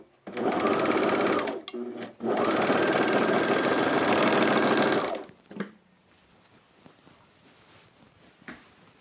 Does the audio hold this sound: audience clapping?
no